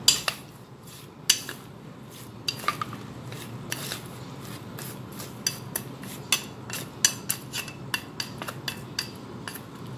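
Utensils tossing fried shallots in a bowl, a close series of sharp metallic clinks and scrapes arriving in irregular bursts that grow quicker toward the end.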